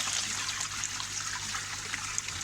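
Water trickles and splashes steadily from a garden pond pump outlet, a constant bubbling flow at close range with no voices.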